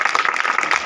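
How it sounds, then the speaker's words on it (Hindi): A gathering at a Suheldev Bharatiya Samaj Party meeting in Tajopur breaks into applause, a dense, even clatter of many hands sustained through a short moment. "जोरदार ताली बजाइए।"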